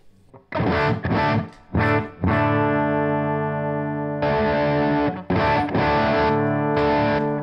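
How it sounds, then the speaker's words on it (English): Heavily distorted electric guitar through a Boss Super Overdrive pedal, loud and sustained: a few choppy chords, then long ringing held chords with brief gaps, no voices. "I'm also using a Boss Super Overdrive."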